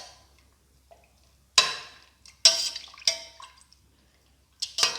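Lamb patty mixture with turmeric powder being mixed by hand, heard as a few separate wet squelching slaps and smacks between quiet pauses, close and moderately loud, with no talking.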